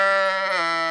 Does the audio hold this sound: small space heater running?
no